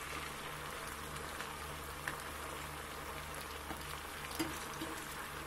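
A steady, soft sizzle of taro frying in hot oil, an even crackling hiss with occasional small pops, fairly quiet and uninterrupted.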